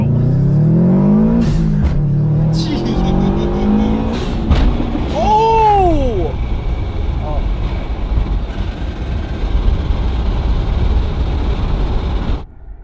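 A Subaru WRX STI lines up against a Tesla Model Y for a standing-start drag race. A loud, close engine roar revs and rises in pitch over a constant rumble, with voices mixed in.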